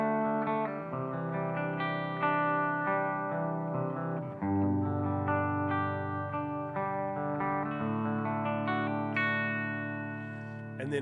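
Collings i35 electric guitar played clean on its bridge pickup through a Mythos Mjolnir overdrive pedal, with sustained chords and single notes ringing in a steady, close, full-bodied stream, no talking.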